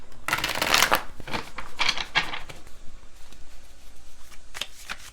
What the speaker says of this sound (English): So let me just pull my clarifying cards from my other deck.